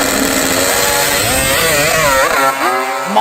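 An old-school two-stroke triple drag racing motorcycle screams at full throttle, loud and close, with a raspy, rising engine wail that climbs and surges repeatedly through its gears.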